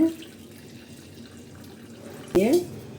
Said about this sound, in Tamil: இப்போ ஃபில்ட்ரு பண்ண சங்குப்பு அந்த தண்ணியை கலர் தண்ணியை ஊற்றிக்கலாம்